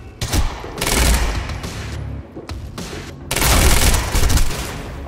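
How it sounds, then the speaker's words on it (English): Gunfire in the video game Quantum Break: loud, close bursts of automatic fire and heavy booming shots that come in waves, with brief gaps between the volleys. "You heard the gunfire."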